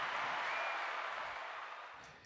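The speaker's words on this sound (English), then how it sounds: "Man, drop a applause for all you wonderful cool kids" Applause sound effect: a wash of many hands clapping, steady and fairly faint, gradually fading out over a couple of seconds.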